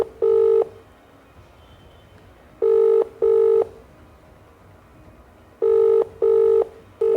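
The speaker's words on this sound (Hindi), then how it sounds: "कॉल जा रही है," Outgoing phone call ringing back, loud electronic double-burst tones repeating in an even pattern with silent gaps between each pair.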